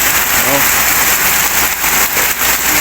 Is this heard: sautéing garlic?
no